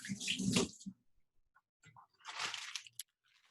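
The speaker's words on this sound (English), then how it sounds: "I'm just going to rinse my hands." Hands rinsed under a running tap during a BBQ tempeh cooking class, two short bursts of splashing water close by with a quiet pause between them.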